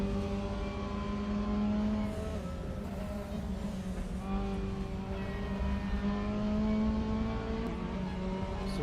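Race cars compete at Silverstone National circuit, several engines droning and shifting pitch continuously as they rev and accelerate, a dense sustained mechanical roar with overlapping tones and no one speaking.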